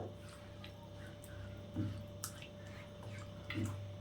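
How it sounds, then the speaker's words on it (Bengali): A grinding stone coated with ginger-garlic paste being rinsed with water: soft splashes, drips and wet squelches at an irregular pace, quiet and close, over a low steady hum. "আমার আদা রসুনের পেস্ট করা হয়ে গেল এটা একটু জল দিয়ে ধুয়ে নেব"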